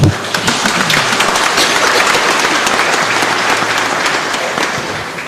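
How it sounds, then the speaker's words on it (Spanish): Loud, sustained applause from a church congregation at a Palm Sunday service, dense clapping that fills the room steadily for several seconds without talk. "fuerte aplauso para el Señor"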